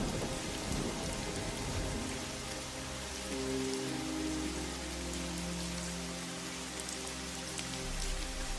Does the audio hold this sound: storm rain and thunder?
yes